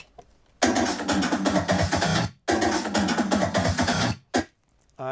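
A sampled drum fill from a sample CD played solo, two dense broadband bursts of rapid hits around two seconds each with a short gap, then a brief final hit, loud and close.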